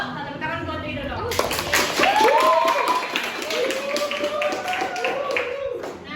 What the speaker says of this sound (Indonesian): Tepuk tangan buat Rido dong.